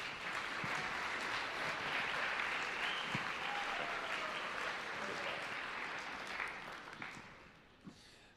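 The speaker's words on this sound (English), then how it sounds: "Give all of our leadership a round of applause." A crowd at an evening awards gathering applauds team leadership, a dense steady wash of clapping that holds for about seven seconds before tapering off, heard from within the audience.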